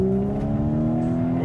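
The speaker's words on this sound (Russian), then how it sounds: "при включении Drive Select в спортивный режим мы получаем открытые заслонки на выхлопе" Audi S4 Avant Stage 2+ with Drive Select in sport mode and its exhaust flaps open, giving a loud, steady close-up engine drone with a deep burbling exhaust note and no one talking.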